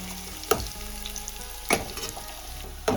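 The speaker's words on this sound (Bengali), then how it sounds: "পেঁয়াজটা একটু লাল লাল করে ভাজা ভাজা হবে" Chopped onion sizzles in hot oil with a steady frying hiss, broken by three sharp scrapes of a stirring spoon against the pan.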